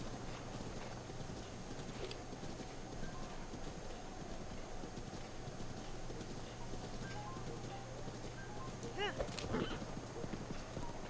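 A horse in Zelda: Breath of the Wild clip-clops steadily over a constant ambient bed, with a brief whinny near the end; no talking.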